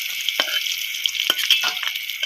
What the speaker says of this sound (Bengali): এরপর ওই তেলের মধ্যে আরও যে সবজিগুলো আছে আমি এক এক করে ভেজে নেব।